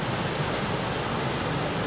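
Ocean surf rolls onto a beach where children are surfing: a steady, dense wash of breaking waves, loud and close, with no voices.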